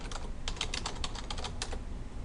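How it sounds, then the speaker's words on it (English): Fast typing on a computer keyboard while entering a word into a document headline, a steady run of close, crisp key clicks with no talking. "we're going to type adventure in"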